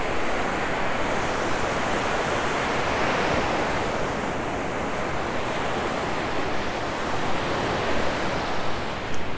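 Ocean surf washing onto a Sanibel Island beach as the tide goes out, a continuous broad roar of breaking and receding waves with wind buffeting the microphone, loud and near, no voices.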